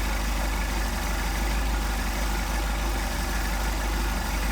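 A Mercedes 190SL engine with Solex carburetors idling on a cold start, a steady low rumble that holds even throughout at close range.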